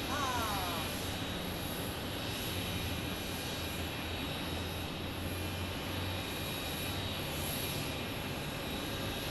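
An American Airlines airliner arriving from Charlotte makes a steady, broad jet roar that holds level across the whole stretch, with a constant hiss and low rumble and no clear rise or fade.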